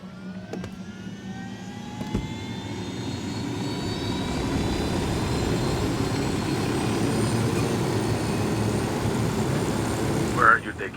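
An aircraft flies in the tactical shooter game Tom Clancy's Ghost Recon, a continuous loud engine roar with rotor-like rumble that swells and holds steady, with a brief clunk near the start and a short voice near the end.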